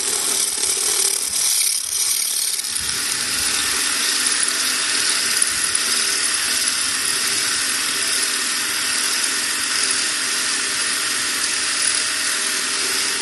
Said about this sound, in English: I'm just going to place it on top. Again, you don't need to be too exact, but just hold it there.